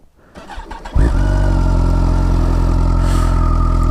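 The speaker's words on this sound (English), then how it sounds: "I always feel bad starting the bike up." A motorcycle engine starts up on a freezing early morning in Scotland, with a brief starter whir before it catches, then settles into a loud, steady, close idle.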